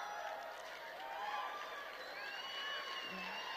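Rally crowd at a Turning Point Action event in Phoenix, Arizona cheering, whooping and applauding at a distance, a sustained faint roar of many voices with high shouts.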